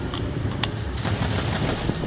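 A run of revolver gunshots in a video game, sharp cracks in quick succession over a steady, noisy background.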